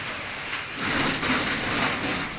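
Steady rain falling as a continuous, dense hiss with no pauses, slightly heavier in its second half.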